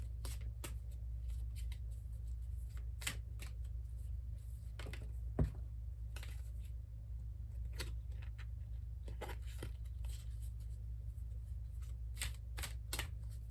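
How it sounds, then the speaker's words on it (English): Energy oracle cards for a tarot reading are shuffled by hand in repeated soft riffling bursts over a low steady room hum, close and quiet, with no talking. "I want to pull a couple energy oracle cards to get the reading started"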